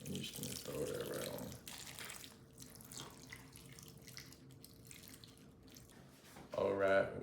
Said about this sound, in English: You're gonna need 1 cup of water, and you're just gonna throw that right